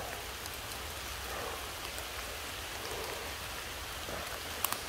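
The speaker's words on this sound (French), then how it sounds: "Il pleut extrêmement fort." Heavy rain falls steadily outdoors during a woodland mushroom hunt, a dense, even hiss of drops with no voices, and one or two sharper drop ticks near the end.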